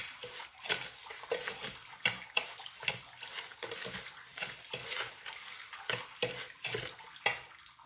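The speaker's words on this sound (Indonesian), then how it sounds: "Kemudian ini gula pasirnya, dan kita aduk." Sugar being stirred into chocolate pudding mix in a bowl, a steady run of scraping, clinking strokes with sharp utensil taps at an uneven pace, close and alone with no talk.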